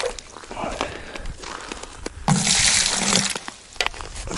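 Water splashes and sloshes inside a partly frozen bucket being rinsed out at an ice-fishing spot in -20 frost, a louder burst of swirling water midway with handling knocks around it.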